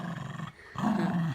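A dog growls in loud, throaty bursts while playing with a ball, a rough rumbling snarl that pauses briefly and then returns stronger, close by and without talk.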